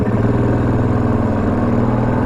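A Yamaha Grizzly 700 ATV engine, fitted with a Power Commander, idles slightly rich nearby with a steady, rapid pulsing putter, even and unbroken.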